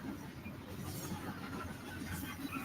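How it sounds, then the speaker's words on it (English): A train rolls along a railroad in a rocky, rural setting, heard as a faint, steady rumble and hiss that holds throughout with no clear peaks. "I think there's a train."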